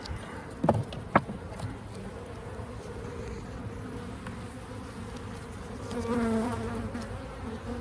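Honey bees buzzing steadily around an open Layens hive, a continuous droning hum with a few louder passes close by.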